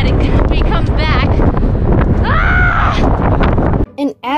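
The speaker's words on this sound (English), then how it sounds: "it's so windy" Strong wind gusting at Hoover Dam, a loud, steady roar battering the microphone for about four seconds, with a person talking over it before the gusts drop away near the end.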